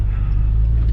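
Deep, loud rumble of an 800hp Dodge Hellcat engine under hard load while drifting, a heavy low-pitched roar that is steady and close, with no speech.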